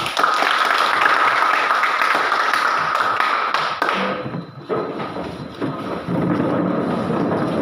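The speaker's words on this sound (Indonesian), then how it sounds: "Ya, tepuk tangan" Students in a biology class clap their hands together at the end of a school teaching session, a dense burst of clapping that holds steady for about four seconds, then thins out and picks back up more loosely.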